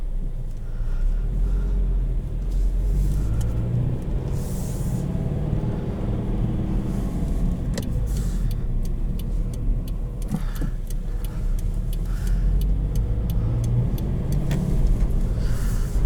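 A 2020 Subaru BRZ Limited with a manual gearbox drives along, giving a steady low road rumble and engine drone with tyre noise throughout, no talking.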